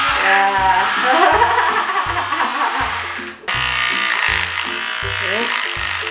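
An electric hair clipper buzzes loudly and close during a haircut, its motor pulsing in an uneven, stuttering rhythm rather than a smooth hum, with voices talking over it.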